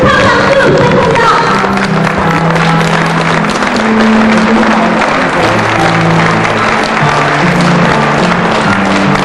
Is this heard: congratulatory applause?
yes